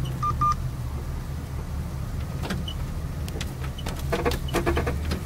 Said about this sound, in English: Thought my camera was going dead, but it was my phone, my other phone.